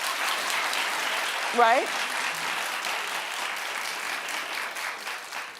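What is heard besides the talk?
audience clapping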